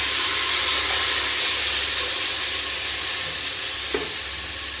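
Tomatoes fry in a pan with a strong, steady sizzle and hiss close by, and a brief scrape of stirring comes near the end.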